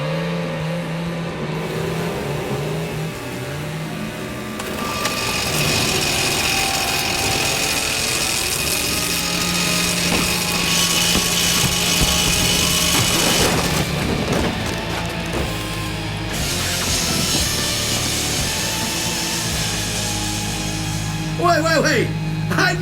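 Chainsaws dragged by Biggie Man, a boss in the Splatterhouse video game, whine and grind loudly in a sustained buzzing roar, while game music and effects play and a voice talks over them.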